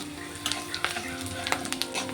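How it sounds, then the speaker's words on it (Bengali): Onions sizzle and crackle in a hot pan, with a few sharp pops and light stirring over a steady frying hiss. "আমি পেঁয়াজটিকে ভেজে নেব।"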